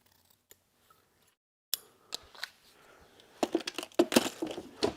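Pen blank material is cut by hand, leaving near silence before a series of sharp, close snipping and cracking clicks that grow denser and louder toward the end.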